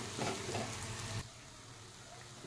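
Coriander powder and cumin powder fry in oil in a pan for chicken curry. Loud, close sizzling with stirring lasts about a second, then settles into a softer, steady hiss.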